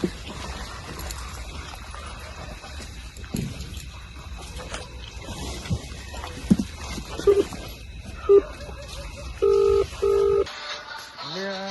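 A short series of electronic dial tones, each a brief steady beep, the last two held longer, over a low murmur of background noise.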